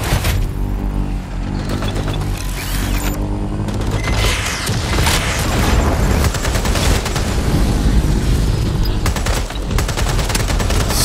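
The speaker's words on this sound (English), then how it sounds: "Stop shooting me" Enemies firing at the player in Watch Dogs Legion, a loud sustained fusillade of rapid machine-gun bursts and booming shots in dense overlapping volleys throughout, with no clear talk.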